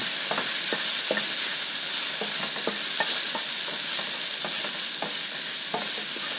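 Taco seasoning being stirred into frying ground meat, a loud continuous sizzle with regular scraping strokes of a utensil against the pan, close and without voices.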